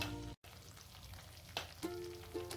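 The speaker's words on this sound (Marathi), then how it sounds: "आपण वाटणाला तेल सुट्यापर्यंत परतून घेणार आहोत मधून मधून हलवत राहायचं" Ground masala paste frying in oil in a pan while being stirred for a Maharashtrian wet toor bean dish, a soft steady sizzle with a few scraping stirs, close and alone.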